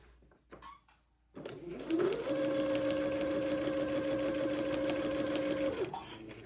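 A sewing machine stitches a pocket bag on an Eton suit, starting after a few soft handling sounds and then running in a steady, close, continuous whir for about four seconds before stopping.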